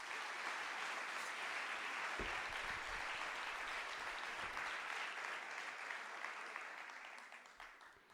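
Sustained audience applause at a rural women's day event in Asturias, a dense, steady wash of many hands clapping that carries on for several seconds before gradually thinning out near the end.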